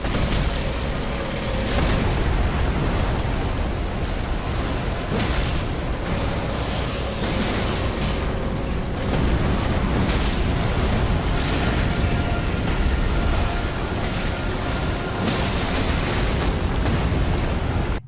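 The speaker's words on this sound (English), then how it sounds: "the headphone blasting booms of the god-devouring serpent" The god-devouring serpent in the Elden Ring video game lets out a loud, continuous booming roar that fills the whole span without letting up.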